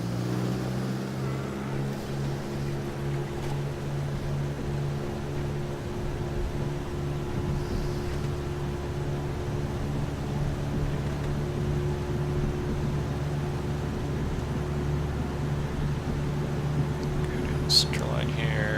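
A simulated aircraft's engines at full throttle in the Prepar3d flight simulator over Portland scenery make a steady, loud droning hum that holds evenly for the whole stretch.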